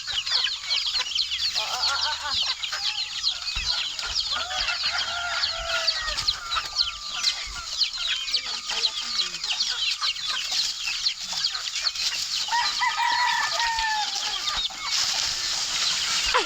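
Chickens clucking continuously at close range in a busy backyard flock, with a rooster among them and other birds chattering; the clucks form a dense, steady layer with no talk.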